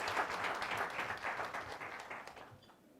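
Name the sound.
audience applause for Maria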